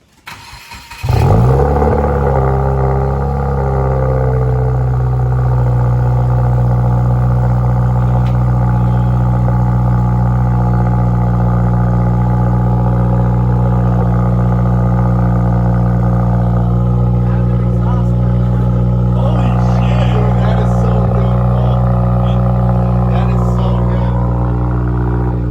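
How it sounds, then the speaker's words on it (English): A 2015–2021 Subaru WRX with a Remark 4-inch stainless double-wall axle-back exhaust cold-starts with a sharp crank and catch, then settles into a loud, steady, deep high idle held for about 24 seconds. "Oh, there's your cold start."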